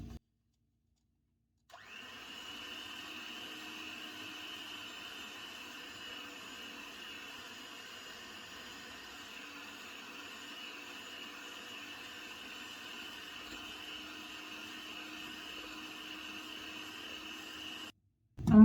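A steady electric mixer whirs continuously for about sixteen seconds as it beats sugar into soft, creamy cake batter, loud and even, with silence before it starts and an abrupt stop at the end.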